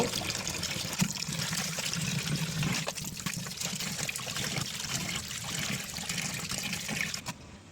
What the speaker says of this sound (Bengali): চিংড়ি মাছটা ভালোভাবে কয়েকবার ধুয়ে নিব